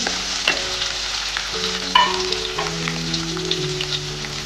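Chopped onion sizzles and fries in a pan for an Idukki-style fish curry, with a steady hiss and scattered scraping stirs and clinks close by, and no one speaking.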